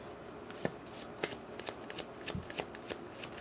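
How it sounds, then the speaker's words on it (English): Tarot cards are shuffled by hand close up, a soft riffling rustle broken by sharper snaps and flicks at irregular intervals. "Let me get one more shuffle in for our Libras."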